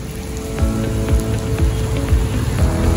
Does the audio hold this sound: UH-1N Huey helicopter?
no